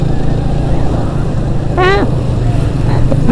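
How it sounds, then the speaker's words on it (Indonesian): Motorcycle engine running during a ride on an Indonesian road, a steady loud low rumble throughout with a brief rising whine or horn-like tone near the middle. "Mesin jalan"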